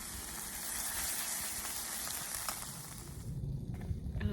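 Homemade tomato sauce of chopped tomatoes, onion and garlic sizzles steadily in a pan outdoors, a dense continuous crackle that thins briefly near the end before popping up again.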